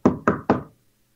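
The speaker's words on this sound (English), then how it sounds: "I wake up to this noise on my bedroom door." Three sharp knocks strike a bedroom door in the middle of the night, evenly spaced and loud, each one dying away quickly before silence.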